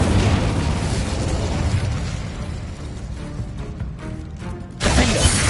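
An Incendio fire spell cast in Hogwarts Legacy bursts loudly, followed by a sustained roaring, crackling rush that fades and then flares into a fresh sharp blast near the end, with no talking.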